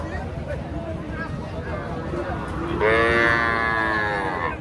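A calf gives a loud, drawn-out moo near the end amid the chatter and bustle of a busy village cattle market, with people talking throughout.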